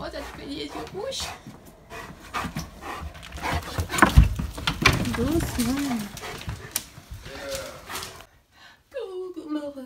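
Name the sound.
dog panting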